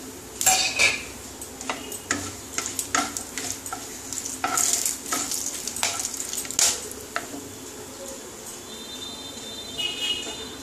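Bay leaf, whole garam masala and cumin hit hot oil for a tempering, giving a soft ongoing sizzle under a run of sharp metallic clinks and scrapes from a spoon against the pan.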